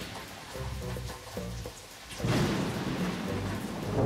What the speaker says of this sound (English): I see more lightning strikes.